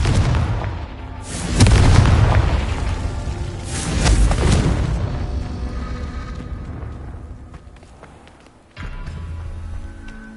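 Confringo blasting spell explosions in Hogwarts Legacy, two loud booming blasts a couple of seconds apart, each rumbling and fading out, then a sudden low thud near the end.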